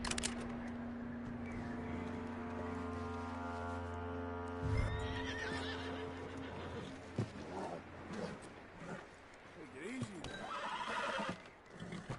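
A horse in the video game Red Dead Redemption II whinnies in a long, wavering call over a steady ambient hum, followed by clip-clopping hooves and a brief snort; speech occurs quietly.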